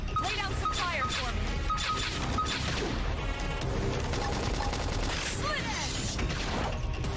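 Combat gunfire in Xenoblade Chronicles X, bursts of shots, clanks and impacts mixed with clattering mechanical effects and game music, with a voice speaking over parts of it.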